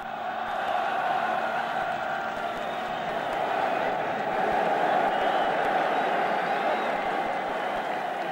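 Large outdoor crowd in Germany in 1962 greeting General de Gaulle, a steady dense roar of cheering voices and clapping that holds level throughout, heard from a distance.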